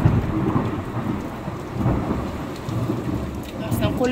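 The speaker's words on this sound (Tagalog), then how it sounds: "Lakas ng kulog." Heavy rain pours steadily while deep thunder rumbles and rolls, swelling louder in waves across the recording.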